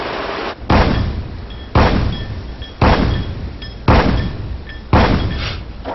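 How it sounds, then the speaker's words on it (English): 76mm naval cannon on a warship firing in a measured rhythm, five loud booming shots about one second apart, each one trailing off into a rumbling decay, with no speech. "the 76mm cannon, firing 120 rounds per minute"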